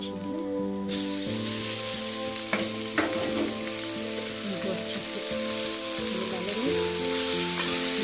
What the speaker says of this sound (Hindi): फली डाल देंगे जो हमने छीन लिया, इनको अच्छे से मिला